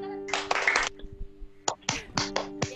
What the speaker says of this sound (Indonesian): denger dong tepuk tangannya nih